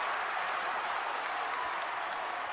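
A college basketball arena crowd in a Texas Tech versus TCU game roars and applauds after missed free throws, a dense, sustained wall of noise with no pauses.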